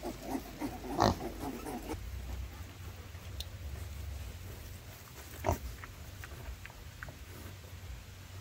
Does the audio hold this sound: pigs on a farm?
yes